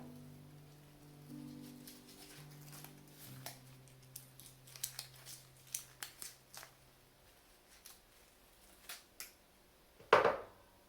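Scissors snip through long fern fronds for a cemetery floral arrangement, a run of short, crisp cuts at close range, irregularly spaced, ending in one louder snap, with a low hum early on.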